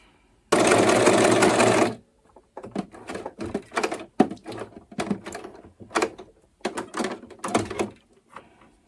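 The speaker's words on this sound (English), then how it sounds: "This is how you back stitch on a serger" A serger stitches a seam on kids' clothes in one loud, fast, continuous burst, followed by scattered clicks and handling taps as the fabric is moved and the thread pulled.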